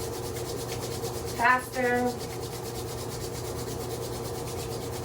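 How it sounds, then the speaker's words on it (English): Two hands rub together in a steady, soft, continuous brushing, with a calm voice speaking briefly over it. "Rubbing the hands."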